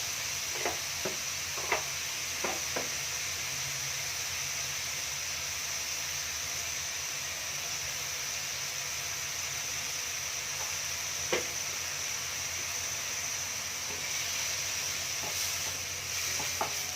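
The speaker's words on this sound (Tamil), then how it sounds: "இந்த வெங்காயம் நல்லா வதங்கட்டும்" Onions sauté in a hot pan for egg thokku, with a steady sizzle and hiss running underneath and several sharp stirring scrapes at scattered moments.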